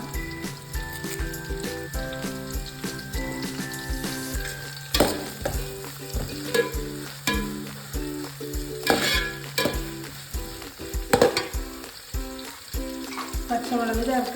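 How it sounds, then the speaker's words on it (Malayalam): Ginger garlic paste frying in a pan for Kerala-style fish mappas: steady sizzling with repeated spatula clinks and scrapes, plus a few louder knocks toward the end. "അത് ചെറുതായി വാടി കഴിഞ്ഞാൽ നമുക്ക് ഇഞ്ചി വെളുത്തുള്ളി പേസ്റ്റ് ഇടാം"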